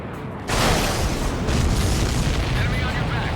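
An aircraft shot down in the Ace Combat 7 air combat game explodes in a sudden loud boom that swells into a sustained roaring rumble, close and dense, with radio voices likely mixed in.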